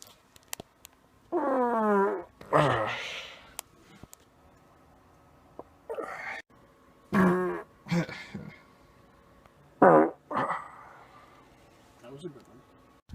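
Several separate farts from a man break out across the stretch, some long and rippling, others short bursts, close and loud with quiet gaps between, mixed with laughter and voices.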